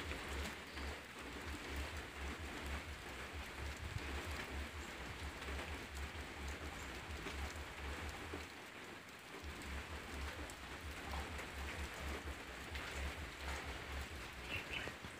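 Rain falls steadily outdoors in a soft, even patter heard from a distance, with faint birds chirping now and then and no voices.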